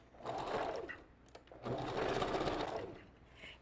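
Sewing machine backstitching a glueless wig closure, a close, steady whirring stitch run in two bursts with a short pause between them.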